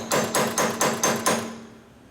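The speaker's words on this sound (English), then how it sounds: "I'm chiseling on the keyway." A hammer strikes a chisel against a seized clutch keyway on a Harley 4-speed, five sharp metallic blows in a steady quick rhythm, loud and close, with a ringing tone that fades after the last hit.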